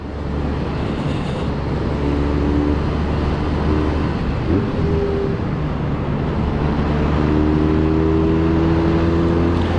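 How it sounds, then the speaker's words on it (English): A 2024 Harley-Davidson X500 motorcycle rides through winding twisty roads, its engine droning steadily with rising and falling revs under strong wind rush, heard from the rider's position. "All right, the X500 through the twisties."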